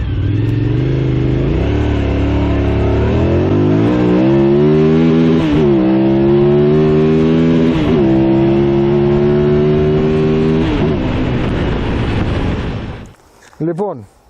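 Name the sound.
two-cylinder motorcycle engine revving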